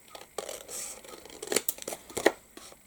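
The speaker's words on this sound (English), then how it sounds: "take your scissors and snip these off" Scissors snip off small paper glue tabs from a craft-kit pentagon, giving a few quick, close, crisp cuts and rustles of paper over a couple of seconds.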